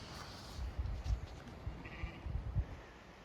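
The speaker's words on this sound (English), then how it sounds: "Those are all ewes. It's got little lambs behind them." A flock of ewes with young lambs out on spring pasture bleats in soft, scattered calls from some distance away, the voices overlapping over a faint outdoor background.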